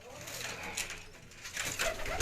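Soft cooing from champion racing pigeons on a Gujranwala rooftop loft, brief low calls mixed with background noise and a voice.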